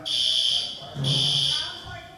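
A fire alarm buzzer sounds in a meeting hall during a morning plenary session, two loud, sustained high-pitched pulses with a brief gap between them, while a voice talks underneath.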